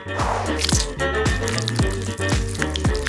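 Wet, sticky squishing of a hand pressing and pulling through Nutella chocolate spread, in a repeated rhythm of close, loud squelches over a steady background.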